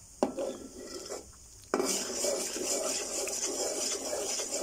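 Jaggery is stirred in a wok, starting with scattered scrapes and knocks, then a steady grating rub of the spatula against the metal.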